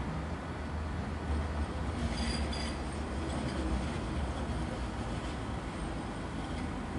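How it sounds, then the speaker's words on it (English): Manchester Metrolink tram on the East Didsbury service arriving slowly and rounding a tight curve at Deansgate-Castlefield, a steady low rumble of wheels and motors with faint high squeal, continuous and moderately close with no talk. "We've got an East Didsbury service arriving, making the tight turn."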